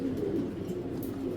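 Racing pigeons coo softly and continuously at close range, a low, rolling murmur lasting the whole brief moment.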